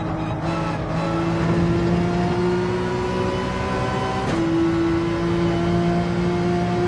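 A race car engine in Gran Turismo 7 holds a loud, steady drone close by, then shifts pitch once as it keeps pulling under throttle.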